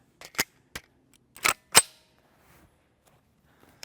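Four sharp, loud gunshots from a CZ Scorpion Evo 3 S1 short-barreled rifle with a 7.72-inch barrel crack out at irregular intervals as it fires at a body armor plate, each report short and cutting off quickly, with silence between and after.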